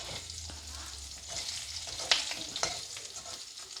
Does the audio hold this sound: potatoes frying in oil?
yes